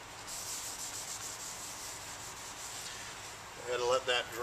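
A floor surface is wiped and scrubbed with window cleaner before safety floor markers are applied, a soft, continuous close rubbing that stays even throughout, then gives way to a brief louder scuffing at the end.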